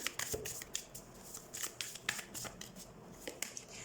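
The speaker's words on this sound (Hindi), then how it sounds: "इस वीक के लिए हम 2-4 और कार्ड्स निकालते हैं आपके लिए।" Tarot cards are shuffled and drawn in a steady run of crisp riffling and slapping card sounds, close and fairly quiet, with no talking.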